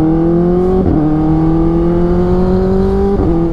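A motorcycle engine runs while riding, a steady close droning hum with two brief dips where the pitch drops and climbs again, as if shifting gears.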